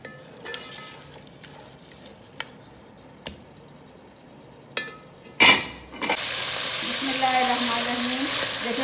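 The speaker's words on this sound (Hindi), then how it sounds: "अभी इसमें मैं डालने लगी हूँ यखनी" Meat stock poured into a pot of browned beef being cooked for beef palou, bursting into a loud steady sizzle after a few quiet clinks of utensils, heard up close.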